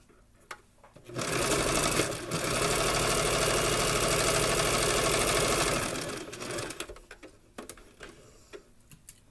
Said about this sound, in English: that's all the sewing with the machine you're really going to need